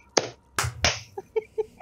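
A few sharp hand claps, three loud close smacks in quick succession followed by softer, fainter taps, in a casual indoor gaming session.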